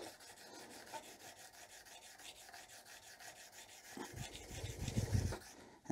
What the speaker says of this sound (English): This is just a 1200 grit diamond stone, and you're just gonna file it back and forwards like this.